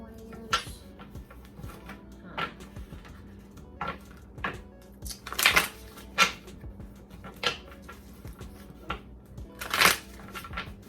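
A deck of oracle-style cards being shuffled by hand in repeated bursts of riffling and sliding, fairly close, with brief gaps between shuffles and a few faint background sounds.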